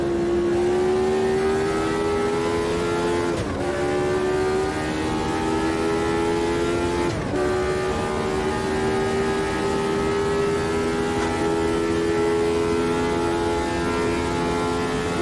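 A Lotus 79 race car in the Automobilista 2 racing game is held at a high steady engine note with no talking, broken by two brief dips where the pitch drops and climbs again.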